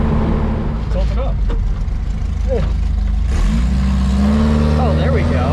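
A VW Baja on smaller tires accelerates hard at full throttle through second and third gear, its engine note loud and close and climbing in pitch around a gear change, with voices talking over the drone.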